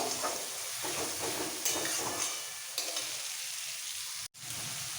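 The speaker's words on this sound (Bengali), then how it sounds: "এবার এই বাটা পেঁয়াজটাকে একদম ব্রাউন করে ভেজে নেব" Mashed paste of two medium onions frying in oil until brown for Golbari-style mutton kosha, a steady close sizzle with stirring scrapes, a brief cut near the end.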